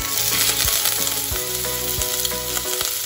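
Ginger sizzling and frying in hot cooking oil for veg Manchurian, a steady loud crackling hiss that runs throughout with faint stirring knocks and no talking.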